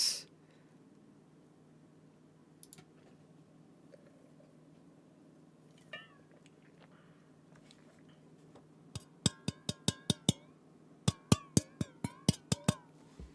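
A titanium camping cup rings with bright, sharp clinks, a few scattered taps at first, then two quick bursts of repeated strikes close by.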